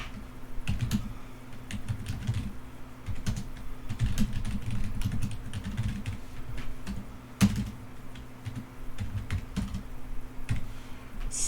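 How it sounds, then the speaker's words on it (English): Steady, fast typing on a computer keyboard while code is written, with dense irregular key clatter and a few heavier thumps, close and moderately loud, with no talking. "So I'm just gonna write some random code here."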